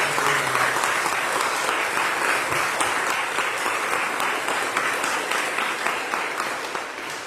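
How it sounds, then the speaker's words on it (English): An audience at the Columbus County Courthouse dedication ceremony gives a long, steady round of applause for the building's contractors and subcontractors, dense clapping filling the room without a break. "let's give these people a big round of applause"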